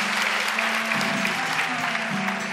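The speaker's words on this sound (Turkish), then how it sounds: "Sen niye alkışlıyorsun Tuğba?" Dense, sustained applause from a studio audience at a Turkish comedy show, loud and continuous with no voices over it.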